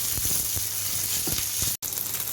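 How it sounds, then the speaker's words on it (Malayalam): Green chilli, ginger and onion hit hot oil in a loud, dense sizzle, close and continuous, with faint stirring knocks and a brief cut near the end. "പച്ചമുളക് ഇഞ്ചി ഉള്ളി ഇട്ട് കൊടുക്കാം"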